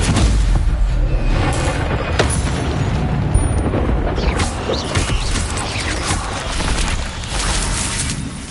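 In Hogwarts Legacy combat against spiders, an Incendio fire spell bursts out amid dense, loud, crackling blasts and rumbling booms that continue without a pause.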